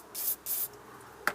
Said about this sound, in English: I'll spray this off.